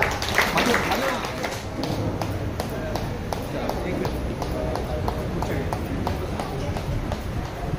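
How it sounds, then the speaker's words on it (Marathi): An audience claps at a Diwali Pahat morning gathering where saris are handed out, producing a dense, steady patter of many hands that runs unbroken through the whole stretch, with voices mixed in. "आपल्यासाठी टाळ्या"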